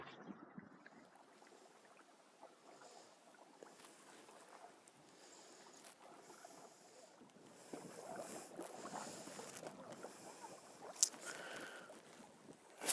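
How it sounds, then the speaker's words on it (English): Faint water swishes and wind noise from canoe paddling on a lake, a quiet, continuous rustle that grows a bit stronger midway, with no talk. "we've got a half an hour paddle ahead of us"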